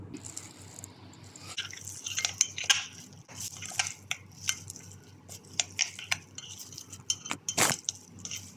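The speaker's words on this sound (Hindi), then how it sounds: "अब हम सब मसालों को दही के साथ मिक्स कर लेंगे।" A spoon stirs spices into yogurt for a tandoori chicken marinade, giving soft wet squelches and sharp intermittent clinks of metal against a bowl, close and moderately quiet, the taps growing more frequent toward the end.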